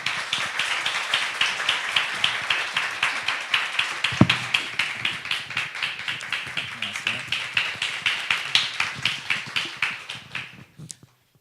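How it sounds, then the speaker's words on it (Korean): Hands clap at a humanities concert to welcome a novelist on stage, a long run of steady, evenly paced claps that build slightly, then fade out at the end. "여러분 뜨거운 박수로 맞이해 주십시오"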